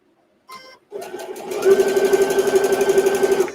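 A sewing machine stitches fabric for a microwave potato bag, starting with a short burst and then settling into a steady, close, continuous whirring run that lasts until the end.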